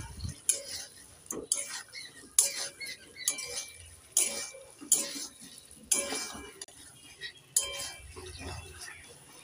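Fried potatoes and peas being stirred in a pan with spices, a spoon scraping and clinking against the metal in repeated strokes, close and moderately loud, with a faint sizzle beneath and no talking.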